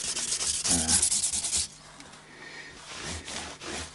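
Sandpaper rubbing across the metal fret bevel of a Strat guitar neck, a close, rasping back-and-forth scrape, strong at first, then softer with faint strokes returning.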